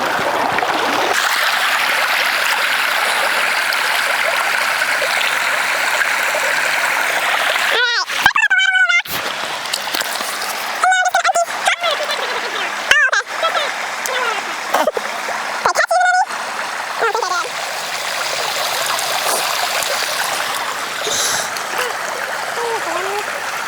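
A stream runs steadily over rocks while a net drags through the shallow water, bringing a few brief splashes and sloshes in the middle section over the constant rush.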